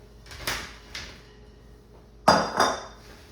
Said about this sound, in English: just throw them on the baking pan and pop them in the oven